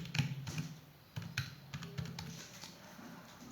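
Irregular clicks and taps of someone typing on a computer keyboard, close by, with short pauses between bursts of keystrokes.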